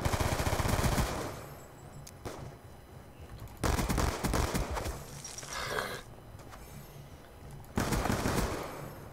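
Automatic gunfire from a gun in the Black Ops 2 video game crackles in loud sustained bursts, broken by brief pauses, with dense rattling volleys filling most of the clip.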